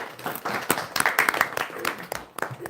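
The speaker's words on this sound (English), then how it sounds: "So please give a big round of applause to Prabhu and Mataji." An audience at a devotional program claps together, a short burst of dense, uneven applause with sharp individual claps standing out across the crowd.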